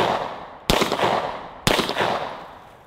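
Two sharp, loud pistol shots about a second apart, each followed by a decaying echo outdoors, fired from Blazer Brass and Speer Gold Dot rounds that had been submerged underwater for five days and aimed at a hill.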